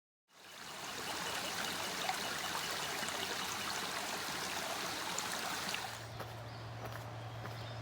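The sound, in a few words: creek water flowing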